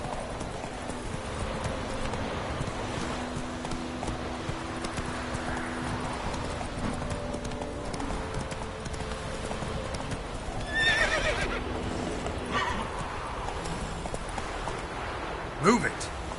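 Roach the horse clip-clops along at a gallop in The Witcher 3, steady hoofbeats with a whinnying neigh near the end, while someone speaks over the game sounds.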